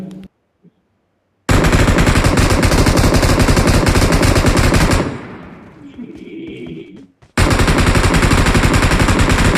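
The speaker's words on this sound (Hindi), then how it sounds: "तब तक 3 नंबर भैया दिहले अपन हथियार चलाई।" Rapid automatic gunfire from a weapon in a shooter video game rattles loud and dense in long bursts, breaking off into quieter rumbling and echoes before another sustained volley.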